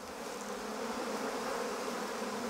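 Ouessant black honey bees buzzing around the hives of an island apiary, a dense, steady swarm hum at moderate level, with no voices over it.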